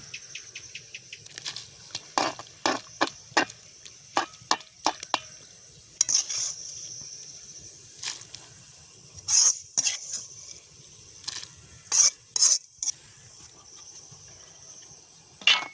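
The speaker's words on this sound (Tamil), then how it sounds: "இப்போ பார்த்திங்கன்னா மரக்கறியெல்லாம் போட்டுவிட்டு இனி வறுத்து வச்சுக்கிறோம்" Vegetables frying in a pan while being stirred, with repeated sharp scraping strokes and bursts of hissing sizzle coming in uneven clusters, close and fairly loud, with no talking.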